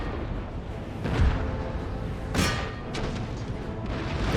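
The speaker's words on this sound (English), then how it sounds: "Where are these cannons firing?" Cannons fire in the video game Empire: Total War, a few muffled booms spaced about a second apart over a dense rumbling battle background.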